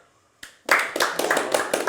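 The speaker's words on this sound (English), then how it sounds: "we'd like to welcome a wee clap." A small group claps together to welcome guests onto a casual student talk show, the brisk uneven claps starting after a brief pause and carrying on close by.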